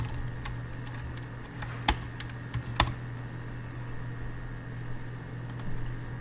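Code is typed on a computer keyboard with soft, irregular key clicks, a couple of sharper taps standing out over a faint steady hum.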